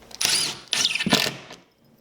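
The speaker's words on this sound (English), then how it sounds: "I'm just going to secure it down with the screws here" Screws being driven through a wooden board-and-batten trim piece into a wall, two short whirring bursts of a close power driver with a brief pause between, ending in quiet.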